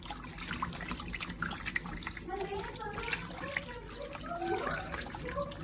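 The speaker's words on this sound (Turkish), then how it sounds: "Şimdi su ilave edip bunu bekleteceğiz." Water poured or running into a lemon and basil sherbet mixture of sugar and juice in a home kitchen, a steady liquid trickle under a speaking voice.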